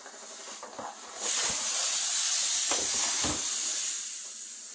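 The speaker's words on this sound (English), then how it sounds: "You can see how with that steam on it just kind of loosens up the whole footbed." Steam jets onto the shearling footbed of an Ugg Tasman slipper in a loud, steady hiss lasting several seconds, with a few soft handling bumps underneath, then tapering slightly at the end.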